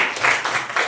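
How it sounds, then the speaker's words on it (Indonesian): Classroom applause in a Christian religious education class, a steady, loud patter of many hands clapping together for under a second, with no voices over it. "berikan tepuk tangan."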